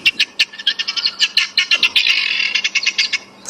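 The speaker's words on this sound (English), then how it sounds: "the second one that I played when I pointed it on there was the helmeted guinea fowl" A helmeted guinea fowl call plays from a device in the African bush, a loud run of rapid, harsh chattering chirps in an irregular rhythm that swells into a dense burst before breaking into separate notes, close by with no speech.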